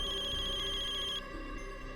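A phone rings with a warbling electronic trill that stops partway through, leaving a faint low hum behind.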